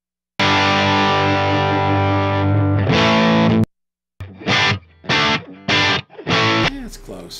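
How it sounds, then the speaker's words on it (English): A Les Paul electric guitar played through a Matchless amp into a Vintage 30 speaker cab: a long sustained distorted chord rings out, then after a brief gap five punchy, separated chord stabs follow, loud and close. "So here is Vintage 30 with the Les Paul and the Matchless."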